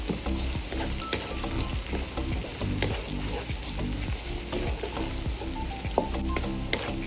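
Onion sautéing with garlic in a pan for Singaporean chili crab, a loud continuous sizzle with frequent scraping and stirring strokes close by, no talking.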